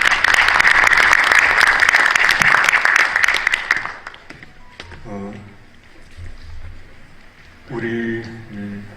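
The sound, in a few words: audience applause welcoming a speaker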